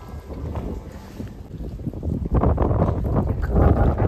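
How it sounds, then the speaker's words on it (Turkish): Strong wind buffets the microphone outdoors beside a basilica with a leaning tower in Düsseldorf, a loud rumbling roar of gusts that swells louder in the second half, with no talk. "Çok da rüzgar var."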